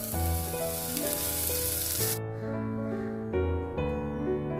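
Sesame oil sizzles steadily in a pan while frying for a duck gravy, a dense hiss that briefly swells and fades, with no talking.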